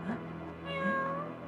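A voice imitates a cat, giving two short, fairly quiet meows with rising and falling pitch, close and alone.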